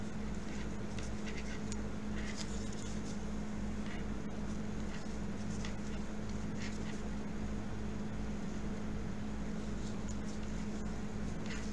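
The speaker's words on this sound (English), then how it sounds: "If you hear some buzzing in the background, I have a window air conditioning." A steady, low electrical buzz hums continuously beneath faint background noise, unchanging throughout, like a nearby window air conditioner running.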